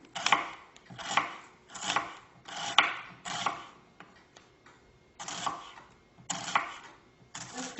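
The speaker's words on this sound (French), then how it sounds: "Après avoir épluché les oignons, on va les couper en lamelles" A knife slices peeled onions into thin strips on a board, with quick, crisp cuts grouped in short rhythmic runs and brief pauses between them, close and clear with no talk.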